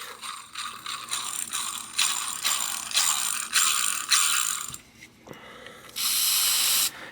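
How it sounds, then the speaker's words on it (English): Pawls in a bicycle freewheel, loosening as grease works in, clatter in a rapid ratcheting buzz while the freewheel is turned. Close and alone, the bursts rise and fall in loudness, with a brief hiss near the end. "You can hear that ratcheting noise inside there."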